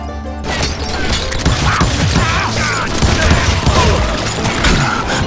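Rapid, dense gunfire from hired guns in the Western shooter game Call of Juarez Gunslinger crackles loud and near in continuous volleys, with thumps and impacts mixed in.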